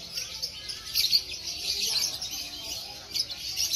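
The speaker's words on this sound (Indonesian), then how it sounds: "Untuk lovebird guys, banyak guys." Lovebirds chirp at a bird market in Jogja, a dense, continuous chorus of high, bright tweets with a few louder calls standing out, heard nearby without talk.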